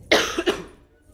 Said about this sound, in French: J'ai un peu la toux ces derniers temps, c'est incroyable.